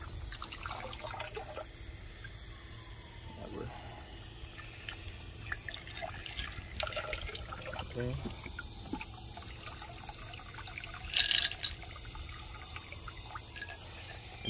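Water poured onto Andamooka matrix opal during an acid treatment, a soft continuous trickle and light splashing heard fairly close, with a brief brighter splash near the end and a single short spoken word.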